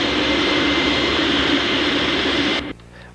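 A loud, steady airplane engine roar fills the cabin during a flight toward Green Bay, then cuts abruptly to a low hum near the end.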